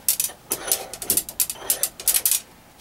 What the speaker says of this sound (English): I'm just going to stick it in the vise here and cut it off